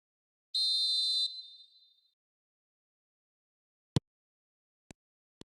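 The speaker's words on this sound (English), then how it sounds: "There's the whistle, and here we go." A single sharp referee whistle blast in the football video game eFootball, lasting under a second, followed after a pause by three faint, brief clicks.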